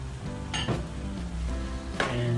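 Squid adobo in a pan with oil and a little sugar and pepper, a steady close hiss of frying with a couple of sharp utensil clinks against the pan.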